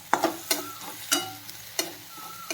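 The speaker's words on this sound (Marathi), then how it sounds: "हिरवी मिरची जास्त पण फ्राय करायची नाही" Green chillies fry in a pan for a leafy vegetable dish, giving a soft steady sizzle broken by several sharp stirring scrapes at regular intervals.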